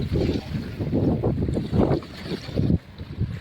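A boat runs fast on the sea off Gopalpur beach, loud buffeting wind and water rushing in surging gusts, with a brief dip near the end.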